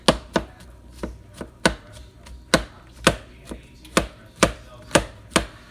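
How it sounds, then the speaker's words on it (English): Mushrooms chopped with a knife on a cutting board, a steady series of about a dozen sharp, close knocks at an even rhythm, alone without talk. "we're going to chop up the last of these mushrooms and get them put in the pot"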